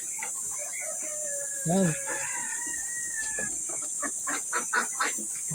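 Pet ducks are fed in the Philippines, with busy quacking and clucking calls scattered through the clip over a constant high hiss, while someone talks briefly near the middle.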